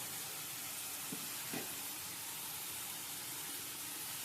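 Onions with curry leaves and salt frying in a pan give off a steady, soft sizzling hiss, even and continuous, with a few faint clinks, no voices.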